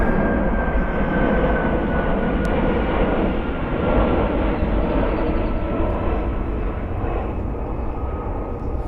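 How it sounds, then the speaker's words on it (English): An airplane passes overhead outdoors in a garden, its engine a steady, loud droning roar that fills the whole stretch with continuous broadband rumble, heard alone without talk. "I apologize about the airplane"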